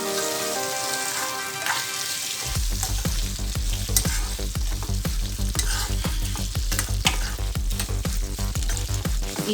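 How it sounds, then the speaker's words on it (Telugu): Potato pieces fry in a pan on a low flame with a dense, loud sizzle, while a spatula stirs them in regular scraping strokes that start a couple of seconds in and keep a steady rhythm throughout. "ఈ ఆలుగడ్డ ముక్కల్ని సిమ్లో బాగా ఫ్రై చేసుకోవాలి."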